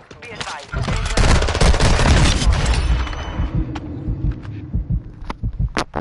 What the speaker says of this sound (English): That fucking sniper shot.